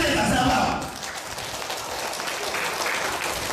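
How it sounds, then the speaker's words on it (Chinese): Audience applause at a thanksgiving dinner speech, a burst of clapping that is loudest at the start and then settles into steadier, slightly softer applause. "给你们的这里掌声好不好"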